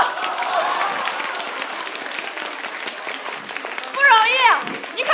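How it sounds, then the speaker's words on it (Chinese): A theatre audience at an SNH48 Team HII stage show claps and cheers in a sustained wash of applause under a host's speech, swelling louder near the end. "快点给他鼓掌"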